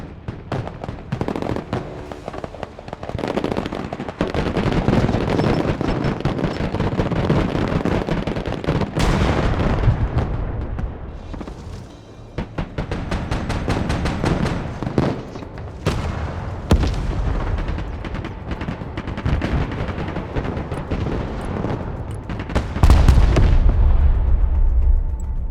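Heavy artillery fire and explosions crash repeatedly in the video game Broken Arrow, a dense barrage of loud booms and sharp blasts that rises and falls, with a big deep impact near the end.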